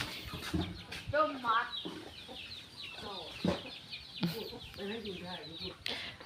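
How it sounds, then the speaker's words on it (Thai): Chickens in a rural village yard cluck and squawk repeatedly at close range while someone talks over them. "ไก่พ่อหวันกันหลายตูขนาดเนาะค่ะ"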